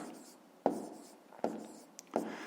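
Pen writing a number on paper while working a decimal rounding exercise, three quiet separate scratchy strokes, close and soft, with no talking.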